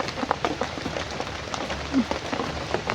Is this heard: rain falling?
yes